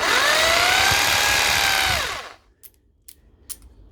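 An AYCE power drill fitted with a bit whirs loudly and steadily for about two seconds, then winds down and stops, leaving a few faint clicks and taps in near silence.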